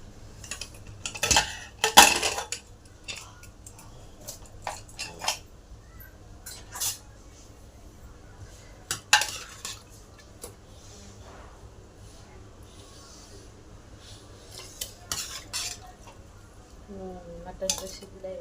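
A pressure cooker of cooked mutton is opened and handled, with clattering metal lids, utensil clinks and scraping between quieter pauses, while someone talks throughout.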